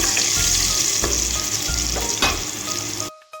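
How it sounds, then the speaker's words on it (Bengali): Potato pieces frying in hot oil with whole cumin seeds, a loud, steady close sizzle with a few stirring scrapes, cutting off abruptly near the end; no voices. "সাদা গোটা জিরে দিয়ে দিব টুকরো করে রাখা আলু আলুটাকে আমি একটু ভেজে নেব"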